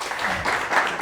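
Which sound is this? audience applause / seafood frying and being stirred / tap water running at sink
audience applause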